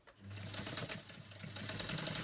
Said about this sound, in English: So let's get sewing.